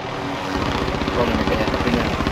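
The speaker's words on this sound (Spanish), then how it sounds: "Voy a agarrar al helicóptero entonces." A video game helicopter in Call of Duty: Warzone, its rotor thumping steadily in a fast, continuous chop with a low engine drone, and voices murmur faintly underneath.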